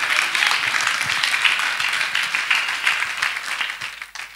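A church congregation claps together in sustained applause, dense and lively, fading slightly toward the end.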